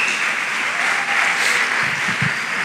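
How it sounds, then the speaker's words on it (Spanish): An audience in a church service applauds a couple celebrating 49 years of marriage, a steady wash of many hands clapping close and full for the whole stretch, with a few louder individual claps near the end. "un aplauso para ellos"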